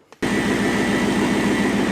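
A repaired thumper engine starts up abruptly and settles into a loud, steady, close idle with a dense mechanical drone and no voices.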